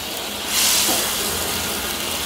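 Chicken stock is poured into spices frying in a pan, setting off a loud, broad sizzling hiss that surges at once and then holds steady, close up, with no talk over it.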